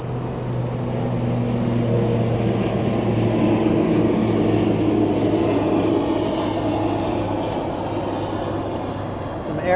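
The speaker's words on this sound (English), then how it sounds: "Some aircraft on the route to Wings Field overhead, dumping all the lead avgas onto me as they can." Small propeller aircraft flying overhead on its approach route to a local airfield, a steady droning hum heard from a distance outdoors, continuous and fairly even in level while someone speaks nearby.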